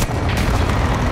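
Artillery strike explosions boom in the shooter game Modern Warfare II, a dense, loud, continuous low rumble of blasts lasting about a second.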